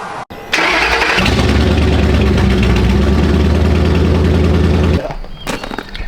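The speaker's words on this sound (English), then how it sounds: "gentlemen, start your engine!" A boat engine cranks and catches, then runs loud and steady for several seconds before the revs drop off near the end; it is running badly.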